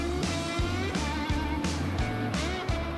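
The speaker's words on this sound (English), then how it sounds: "I started the bike and let it warm up." A Yamaha FZR1000 motorcycle engine idles while warming up before carburettor balancing, a steady close rumble with a slightly uneven pulsing rhythm and occasional small rev swells.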